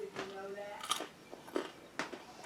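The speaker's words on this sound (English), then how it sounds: "let me go ahead and take a bite" Bite into a chewy homemade loaf leavened with wild yeast, heard as a few soft crunching bites and chewing sounds close to the mic, with a short spoken word over part of it.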